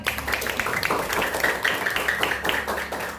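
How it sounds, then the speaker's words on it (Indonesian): A classroom of students claps for a classmate picked out by the teacher, a burst of quick, dense hand claps lasting a few seconds at close range. "tepuk tangan buat Elang"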